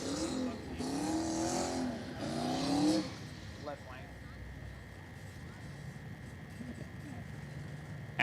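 At a Brown County street drag racing event, a Chevrolet Nova drag car's engine rises in pitch through several revving sweeps under an announcer's commentary, then fades to distant crowd ambience.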